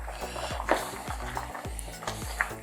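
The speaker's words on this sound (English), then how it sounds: "I'm gonna flip the turkey over." Jerk turkey being turned over in a boiling pot, a run of scraping, clattering utensil-on-metal knocks at a steady rhythm over a low simmering sizzle, close and fairly loud with no talk.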